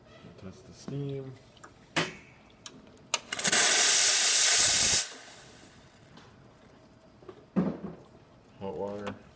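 La Spaziale EK espresso machine steam wand letting out a loud, sustained hiss for about two seconds, with short spoken words before and after.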